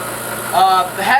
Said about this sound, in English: Having a wire brush and a drill press like this is really nice.